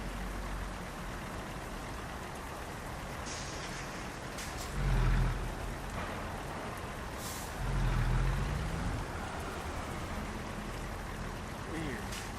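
Steady broadband rain hiss in American Truck Simulator with a Peterbilt 567, continuous and moderately loud, with low truck rumble swelling twice and a voice now and then under it.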